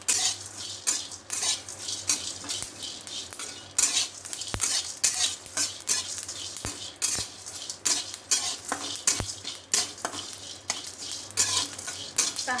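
Dry masala roasting in a pan for a Konkan-coast-style village chicken curry, a spoon scraping and clinking against the metal in a steady stirring rhythm, with sharp knocks now and then over a faint low sizzle, close by and without talk.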